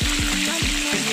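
Fish frying in a pan for a coconut-milk pilau, a loud close crackling sizzle that runs continuously with repeated bubbling pops.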